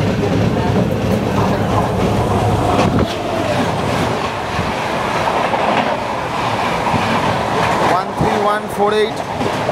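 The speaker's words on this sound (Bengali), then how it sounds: "আমাদের ট্রেন এসছে হচ্ছে 1 নম্বর প্ল্যাটফর্মে বোলপুরে" Loud rumbling of a passenger train at platform 1 of Bolpur station, with rattling carriages and station noise, and voices talking over it toward the end.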